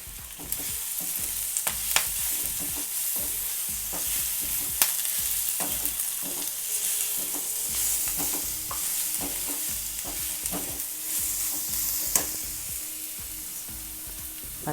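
Curry leaves frying in hot oil for a mutton pepper fry, a steady loud sizzle with bursts of crackling pops and occasional stirring scrapes, close up and continuous without talk.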